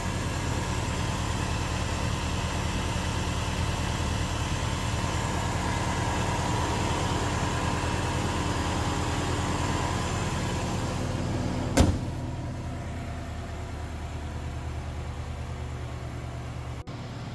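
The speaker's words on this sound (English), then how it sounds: "So it's running now, should be able to hear the noise of engine" A 2001 Subaru Impreza WRX STI automatic with a 2.0 engine idles steadily and close up, a smooth, quiet, even hum throughout, with a brief click near the end before the engine note settles slightly lower.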